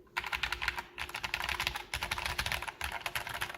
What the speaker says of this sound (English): They're not a bad sounding linear switch.